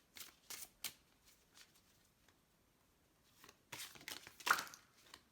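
Oracle cards from a Witch's Oracle deck are shuffled and drawn in soft, close papery riffles and flicks, one burst at the start and a louder cluster near the end, with near silence in between.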